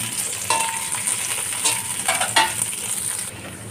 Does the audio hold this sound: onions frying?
yes